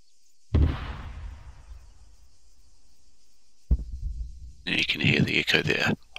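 Deep distant artillery rumble in the military game Arma 3, two heavy low booms several seconds apart, each rolling out slowly, the second followed by a burst of sharper, brighter crackling.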